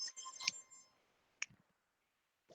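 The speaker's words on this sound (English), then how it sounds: "there's an annoying alarm. Let me turn that off." An alarm beeps in a quiet room, a few short, high electronic tones at irregular spacing, moderately faint and close, then cut off after a brief click.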